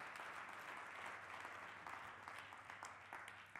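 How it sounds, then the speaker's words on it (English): An audience claps for a guest speaker at a talk, a dense steady wash of applause filling the room, sustained throughout without pause. "please give a big round of applause to James once again"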